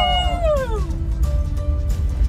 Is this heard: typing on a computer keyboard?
no